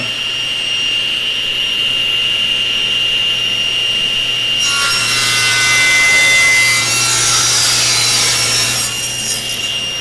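A saw cuts a bevel in wood. A steady hum runs under it before the blade bites in with a loud, bright rushing whine that swells midway and then tapers off, alone without talk.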